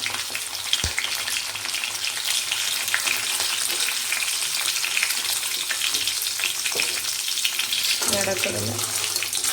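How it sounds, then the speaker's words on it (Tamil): Dried chillies, curry leaves, coconut, tamarind and jaggery sautéing for a peanut chutney, a loud, continuous hiss of frying close up, with a few brief scrapes and clinks over it. "எல்லாத்தையும் போட்டுக்கலாம் கூட புளி அப்புறம் சின்ன சைஸு வெல்லம் எல்லாத்தையும் போட்டு ஒரு வதக்க வதக்கிட்டேன்"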